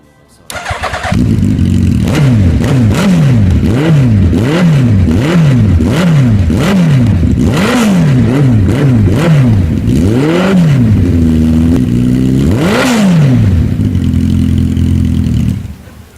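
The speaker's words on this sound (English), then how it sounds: "Engine sounding great. That's the Hayabusa 1340 Gen 2 engine." Suzuki Hayabusa 1340 Gen 2 engine fitted in a home-built formula racer, revved repeatedly in loud, close rising-and-falling bursts, then held at a steady high idle before cutting off, with no talk over it.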